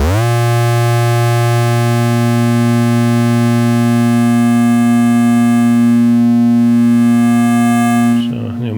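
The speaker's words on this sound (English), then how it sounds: "a combination of foundation waveforms to create more interesting timbres." An Instruo Cš-L synthesizer module sustains a loud, rich harmonic drone built from combined foundation waveforms, the timbre holding steady before a brief glitchy shift at the very end.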